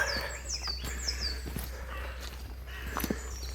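Sunny outdoor ambience on the Camino de Santiago between Pimbo and Pomps, with birds chirping and twittering at moderate distance over a low steady hum, with a few soft knocks and steps.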